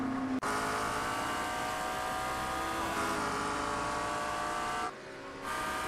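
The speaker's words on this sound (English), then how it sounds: "God, that damn McLaren is so loud." A McLaren race car in the iRacing game at Fuji roars with a loud, sustained high-pitched engine drone, briefly dropping off near the end before picking back up, heard alone.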